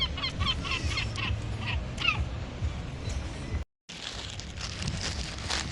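Seagulls calling at the Blackpool seaside, several squawking, honking cries repeating over a steady outdoor hum, fairly near but not loud, with a short dropout near the end.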